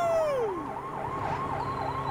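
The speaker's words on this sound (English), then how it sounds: "I can choose whether to run the siren or not." A police siren wails close and loud in the video game Lego City Undercover, sweeping quickly up and down in a steady repeating pattern.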